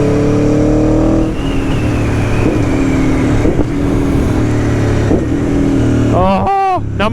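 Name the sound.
Aprilia Tuono 1100 Factory V4 motorcycle engine with quick shifter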